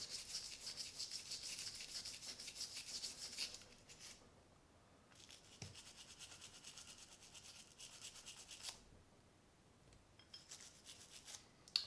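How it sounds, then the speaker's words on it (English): A brush scrubs dust and grime off Glock 48 MOS pistol parts, making close, rapid rasping strokes in bursts separated by short quiet pauses. "I'm just kind of scrubbing this whole thing down because I know it's got a bunch of dust and grime on it."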